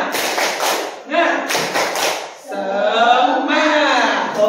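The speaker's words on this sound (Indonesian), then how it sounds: "Tepuk semangat." A group performs rhythmic spirit clapping in bursts of sharp taps and thumps, alternating with people chanting and talking in between.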